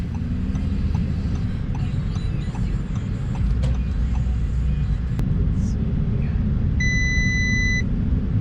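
Audi R8 V10 Plus low tire pressure warning chime, a single clear electronic tone sounding near the end over a steady engine rumble inside the car.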